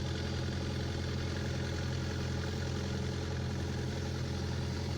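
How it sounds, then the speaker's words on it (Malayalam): A low, steady boat engine drone hums throughout as the boat nears an island jetty in Lakshadweep, even and unchanging, with no talking. "നമ്മളിപ്പോൾ കടമത്ത് ദ്വീപിൻ്റെ ബോട്ട് ജെട്ടിയിലേക്ക് അടുത്തുകൊണ്ടിരിക്കുകയാണ്"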